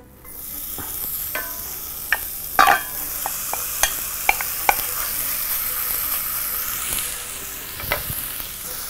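Lamb meat for tas kebab sizzles and spits in a preheated cooking pot, with a steady frying hiss broken by sharp pops and clicks of a spoon stirring, close and loud.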